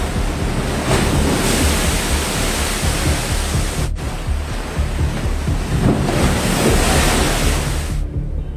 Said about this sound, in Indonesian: ombak besar secara tiba-tiba menghantam dermaga dan pelabuhan Kota Agung